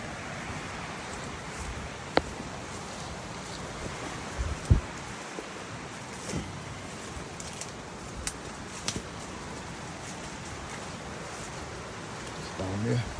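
A swollen river rushes heavily during rain, a steady broad wash of flowing water with scattered louder splashes, continuous and fairly close throughout.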